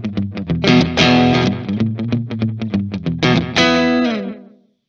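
Electric guitar played through a T-Rex Replicator D'Luxe real tape echo pedal: rapid picked notes and sustained chords with soft, smeared repeats, ending in a fading decay tail.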